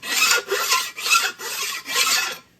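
A hand file is drawn across a cast iron exhaust manifold in five rhythmic, close, rasping strokes, each a loud scrape separated by short pauses.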